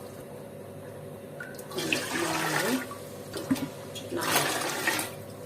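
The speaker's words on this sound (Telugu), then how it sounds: "నేను దీనిలో వాటర్ తీసుకుంటాను" Water is poured into a large cooking vessel in two splashing bursts separated by a pause, while a voice counts aloud.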